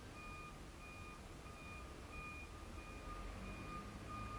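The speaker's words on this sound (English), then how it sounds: "I forgot about the crazy beeping." A truck's reversing alarm beeps in a steady repeating pattern, moderately distant over a constant low rumble of idling engines and background noise at a trucking yard.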